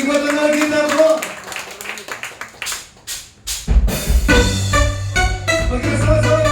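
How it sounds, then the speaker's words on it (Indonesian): Congregation clapping during a church worship service, a brief burst of hand claps after a preacher speaks, then fading into music and singing. "Beri tepuk tangan sekali lagi buat anak kita"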